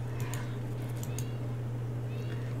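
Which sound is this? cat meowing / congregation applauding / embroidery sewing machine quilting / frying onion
cat meowing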